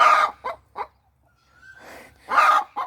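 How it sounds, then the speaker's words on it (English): Two hens in a small backyard coop cluck in short, close bursts separated by brief pauses, one drawn-out softer call in the middle, with no talk. "The 2 chickens are waiting to lay an egg."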